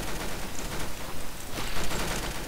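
Dense, continuous gunfire from the video game Arsenal, a steady rattling barrage of rapid shots filling the whole stretch at fairly loud level, with no talking.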